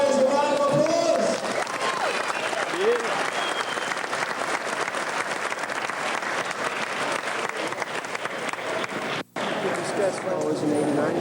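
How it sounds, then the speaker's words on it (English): An audience claps steadily and fairly loudly for two Sambo fighters after a submission-fighting match, with the applause holding for several seconds and a brief shout or cheer near the start. "Let's give both fighters a round of applause."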